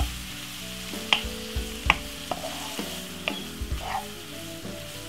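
Chopped cherry tomatoes sauteing in a pan over medium heat, a soft continuous sizzle broken by several sharp clicks and knocks of a utensil stirring against the pan.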